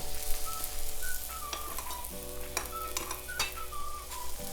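Potato-stuffed aloo paratha flatbread fries in ghee on a hot pan, a steady close sizzle and crackle with brief scraping stirs and faint tonal whistles over it, no talking.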